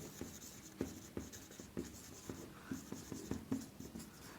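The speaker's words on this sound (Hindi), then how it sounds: "तो यहाँ पर हम लिखेंगे राम" Chalk or marker taps and scratches across a classroom board in quick, irregular strokes, close and fairly quiet, with no talking.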